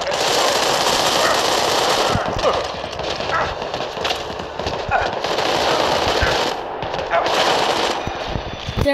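Gunfire in the mobile shooter Sniper Fury crackles in rapid, dense bursts close up, a steady rattle of shots for several seconds with a voice talking underneath.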